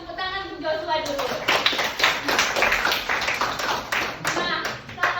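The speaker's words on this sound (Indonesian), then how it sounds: "Tepuk tangan untuk Joshua dulu." Students in a classroom clap for a classmate, a brief burst of uneven hand claps mixed with children's voices and chatter.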